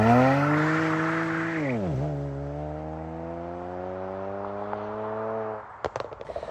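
A front-wheel-drive VW Polo GTI launches hard with a bit of wheel spin, its engine climbing loudly, dipping at a shift, then pulling again in a rising tone before fading.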